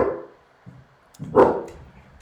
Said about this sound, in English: That was Socks that just barked